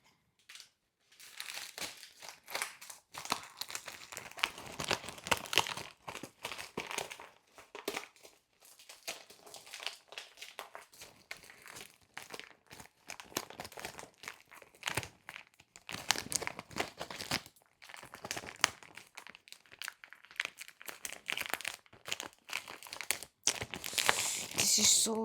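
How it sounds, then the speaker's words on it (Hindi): Small plastic zip lock bags crinkle and crunch while clothes and belongings are squeezed in during packing, close and continuous with irregular rustling bursts and short pauses. "अब इनको ज़िप लॉक बैग में पता नहीं कैसे एडजस्ट करूँ, ये आ ही नहीं रहे हैं"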